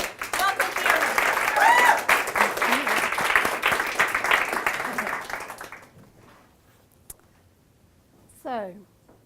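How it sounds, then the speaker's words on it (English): An audience bursts into loud applause for a speaker, the clapping running for several seconds before fading out, followed by near silence and a brief voice. "So give Fiona a huge, huge, huge round of applause."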